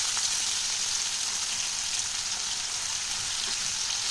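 Tomato and chopped onion fry in hot oil for broccoli paneer, giving a steady, even sizzle that holds without a break, close and fairly loud, with no talking.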